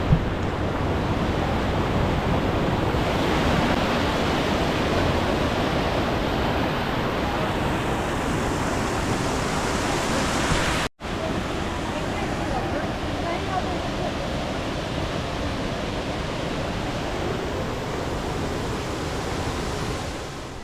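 Waterfall at Mahabaleshwar, a steady, loud broadband roar of falling water filling the whole stretch, with faint voices mixed underneath and a brief cut partway through.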